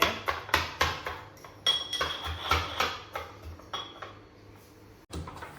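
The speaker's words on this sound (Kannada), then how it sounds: "ಶುಂಠಿ ಮತ್ತು ಬೆಳ್ಳುಳ್ಳಿಯನ್ನು ಗುದ್ದಿ ಹಾಕ್ತಾ ಇದ್ದೇವೆ." Garlic and ginger are pounded for a village-style crab dish, giving a steady run of sharp, close thuds with a clinking edge, about two per second, then a pause and one last strike.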